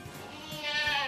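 Goats at a goat farm in Naga City bleating, a wavering, nasal call that swells louder toward the end, close by and alone without talk.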